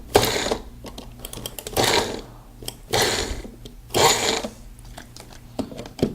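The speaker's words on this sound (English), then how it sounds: "it's still blending the stuff that's already chopped up" A Magic Bullet blender with cross blades pulses salsa in short bursts, each a loud whirring rush with brief pauses between, about four pulses in a row, close up with no talk.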